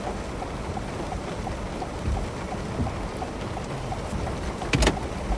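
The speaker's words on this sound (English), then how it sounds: "So it's safe to say that Collins got some hail." Hail falling during a storm in Collinsville, Oklahoma, a steady, dense patter of hard impacts with a few louder knocks near the end and no talking.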